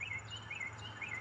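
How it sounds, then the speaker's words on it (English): A small bird chirps outdoors on a farmstead, three short high calls repeating at an even pace, faint over a steady low hum with no talking. "hear that bird?"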